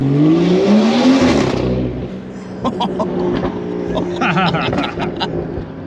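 A BMW G30 540i with a B58 engine, free-flow downpipes and valved exhaust revs hard in sport mode, roaring loudly before settling, followed by sharp crackles and pops echoing off nearby buildings.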